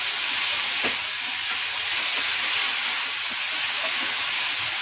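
Tomatoes dropped into a hot pan for masala Maggi give off a steady, close hiss and sizzle that fills the whole stretch, with faint stirring knocks and no talking.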